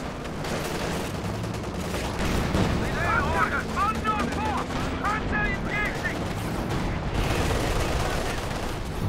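Katyusha rocket artillery barrage in Company of Heroes 2, heard as dense, continuous rumbling volleys of launches and explosions, with a whistling, warbling streak of rockets through the middle; no clear voices.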